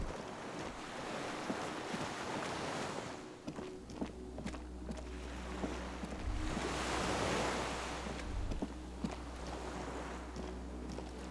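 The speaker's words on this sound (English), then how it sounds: "The skiff is swaying on the waves by the dock." Water waves washing against a dock in the video game Disco Elysium as a skiff sways nearby, soft surging swells with footsteps and a low steady hum underneath.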